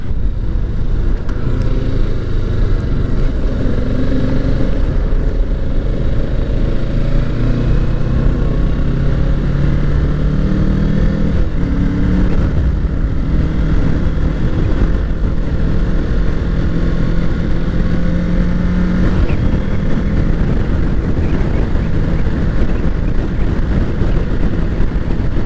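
A 2020 Kawasaki Ninja 650 KRT Edition motorcycle rides through traffic, its engine droning steadily and loudly for the whole stretch under heavy wind rush on the microphone.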